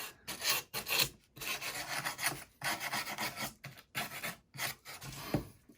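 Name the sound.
scraping fuzzies off the back of pallet wood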